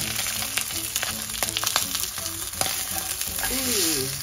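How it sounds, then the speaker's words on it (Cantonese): A salmon collar pan-frying after being flipped, with a strong, even sizzle and spitting oil, plus a few sharp utensil taps and scrapes against the pan, heard close and alone. "大約煎咗2分零鐘啦，咁我哋就反一反轉佢啦"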